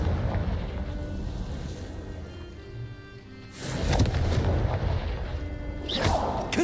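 Confringo blast spell explosions in the video game Hogwarts Legacy: a rumbling low bed of battle noise breaks into two loud, booming bursts a couple of seconds apart.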